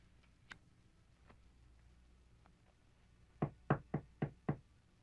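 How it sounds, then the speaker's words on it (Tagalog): Five quick, firm knocks on a door sound close and distinct near the end, after a few faint taps in a quiet room. "May kumakatok."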